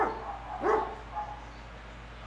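A dog gives a single short bark, close and moderately loud, over a quiet background hum, with a fainter yip shortly after.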